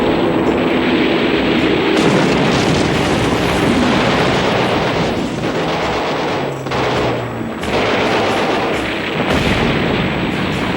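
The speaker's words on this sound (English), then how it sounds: "A few of them manage to knife through the intense anti-aircraft fire and score 3 direct hits." Intense anti-aircraft gunfire and bomb blasts during a World War II naval battle around the aircraft carrier USS Enterprise near Guadalcanal: a loud, dense, continuous roar of rapid firing and explosions with no talk.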